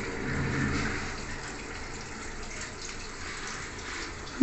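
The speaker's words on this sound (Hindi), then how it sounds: "देख सकते हैं आप जिस तरीके से पानी ये बारिश कर रहा है पानी की" An LG top load washing machine's jet spray sprinkles water down into the empty drum like rain, a steady close rushing hiss that holds evenly throughout with a brief knock at the very end.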